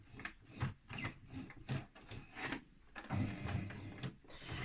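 A sewing machine stitches a skirt waistband with a 1/2 inch seam allowance, giving soft, faint, irregular mechanical whirring in short uneven bursts.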